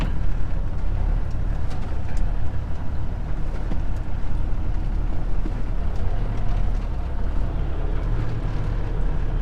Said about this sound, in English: I got an engine idling high.